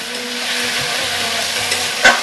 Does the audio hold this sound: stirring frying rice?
yes